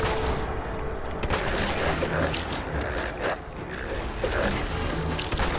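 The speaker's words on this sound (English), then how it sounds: "Yeah, shotgun." Shotgun fire in the Fallout 4 video game, with dense, loud, continuous game combat noise, repeated booming blasts and mechanical clatter, and a voice talking faintly underneath.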